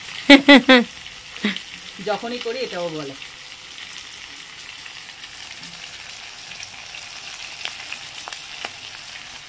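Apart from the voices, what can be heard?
ginger frying in pan with prawns and garlic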